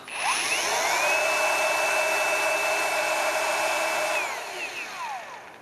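A Vitals ALs 18125P cordless angle grinder, repaired after a controller fault, spins up to a loud, steady high whine, holds for about four seconds, then winds down alone.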